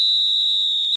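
A final-whistle sound effect rings out as one loud, steady, high whistle tone held for about a second, then cut off abruptly, with nothing else behind it.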